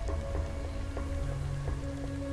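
Rain falls steadily in the survival video game Day R Survival, a dense continuous patter with faint periodic tones, loud and unbroken throughout, with no voices.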